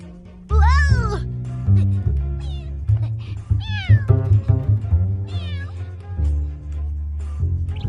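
A cat meowing repeatedly in an animated show's kitchen scene, several loud rising meows close by over background music, with a voice talking at moments.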